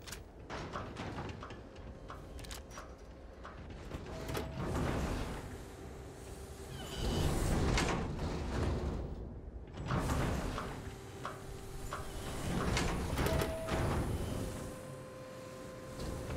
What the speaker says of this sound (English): That door, when it opens, the sound goes so far over to my left